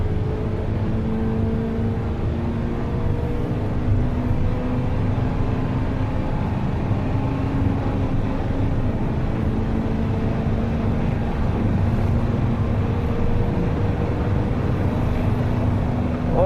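Race car engine roars near the rev limiter in fifth gear on the main straight of a Nurburgring Nordschleife lap, a loud continuous drone with rising harmonic whine and heavy wind and road rumble throughout.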